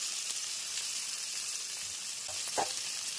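Potatoes fry in oil with turmeric and salt, a quiet steady sizzle with soft stirring scrapes and a brief clatter near the end.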